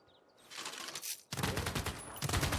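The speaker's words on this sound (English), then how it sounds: "we can actually use city bombardment right away" City bombardment in Civilization 6: a burst of dense, rapid gunfire and explosive booms erupts loudly, pauses briefly, then resumes as a continuous heavy barrage.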